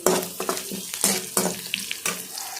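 Chopped onions fry in a hot pan for a Kannada palya, a busy close sizzle broken by repeated scraping stirs of the spoon, with no talking.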